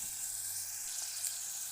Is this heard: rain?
no